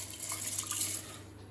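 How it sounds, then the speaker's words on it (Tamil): Water pours into a cooking pot for sweet pongal, a faint, steady splashing trickle that thins out toward the end, heard alone without talk. "அதே கப்பில் 4 கப் தண்ணி சேர்த்துக்கலாம்"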